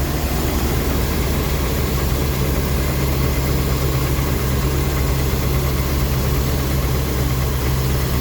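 An old Rolls-Royce engine idles steadily and loudly up close, a continuous deep low rumble with an even vibration and no voices over it.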